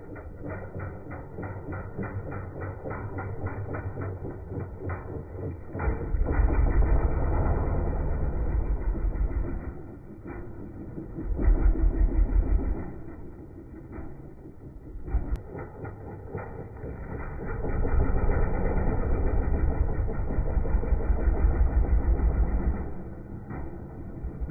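An enduro motorcycle engine revs in repeated passes during wheelie attempts, rising to loud surges and dropping back to a lower idle between runs, with mechanical clatter and no speech.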